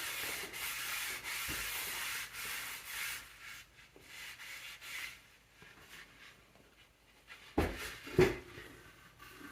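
Tung oil finish being rubbed by hand into a wooden piece, a soft continuous rubbing and sanding-like friction with steady strokes, close and fairly quiet, ending with a few louder handling knocks.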